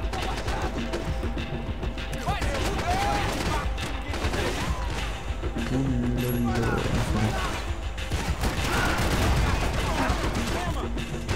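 Busy Max Payne 3 gunfight with repeated gunshots and rattling bursts of fire, impacts and mechanical clatter layered over constant game ambience and music, with someone talking intermittently over it.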